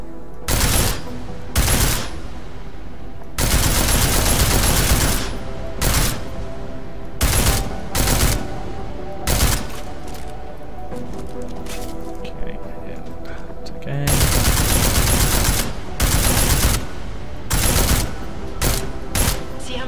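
Combat rifle in Deus Ex: Mankind Divided firing in loud, close bursts, some long sustained volleys and some short clusters of shots, separated by brief pauses of quieter game ambience.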